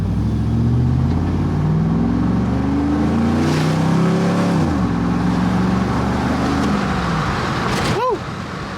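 A 2005 Chevrolet Tahoe engine revs loudly and close after a misfire repair, its pitch climbing and falling in a couple of strong pulls, with a brief whoop from a voice near the end.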